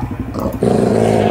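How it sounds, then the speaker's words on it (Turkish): A dog sound plays from a mob head in a Minecraft mod, a short loud growling bark-like burst that lasts about a second with no voices over it. "Bu köpek sesi çıkartıyor."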